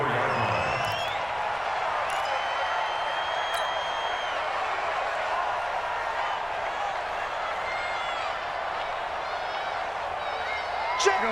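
Steady stadium crowd roar in a Madden NFL football game, a broad continuous hum of many voices with faint whistles and cheers mixed in, running evenly the whole time beneath talk.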